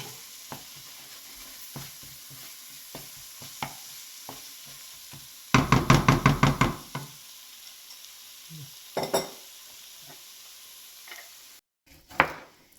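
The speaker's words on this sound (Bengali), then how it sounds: "আমরা পেঁয়াজটা যতক্ষণ গলে আছে ততক্ষণ আমরা কষাতে থাকবো" Onion and spices being sautéed in a pan: light scraping strokes at first, then a burst of rapid, loud stirring and sizzling, followed by scattered softer clinks and scrapes with short pauses between.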